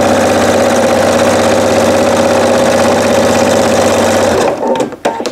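A sewing machine stitching through quilt squares runs in a fast, steady, even whir for about four and a half seconds, then stops abruptly, followed by a few brief clunks.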